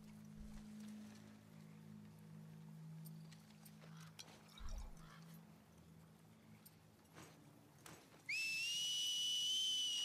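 A sharp, sustained whistle in The Last of Us Part II cuts in suddenly near the end, loud and close above a quiet, low ambient backdrop.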